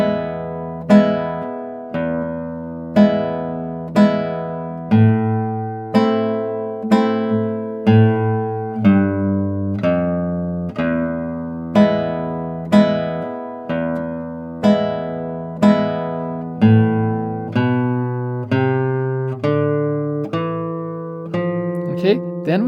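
Spanish guitar plays a slow passage of Malagueña starting from bar 10, a steady run of plucked single notes over bass notes, close and clear, with no talking.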